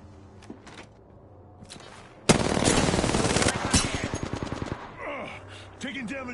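Automatic weapon fire bursts out in Apex Legends, with rapid, loud rattling volleys over a few seconds after quieter game sounds and short voice lines from Gibraltar's side.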